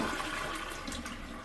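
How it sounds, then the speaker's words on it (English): Toilet flushing right after a Korky ultra high performance flapper replacement, a close, steady rush of water swirling through the bowl for the whole stretch. "All right, now you're good for a quick, easy flush."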